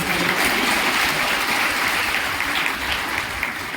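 Applause from the audience at a women's sewing-machine distribution event, a dense steady patter of many hands clapping continuously throughout, with no talk over it.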